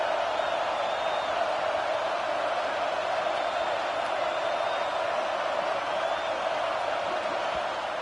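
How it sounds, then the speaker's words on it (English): Home crowd cheering loudly at a college football game between Alabama and North Texas, a dense, sustained roar of many voices with occasional whoops, continuous and unbroken. "how nice is it to have the home crowd going absolutely bananas?"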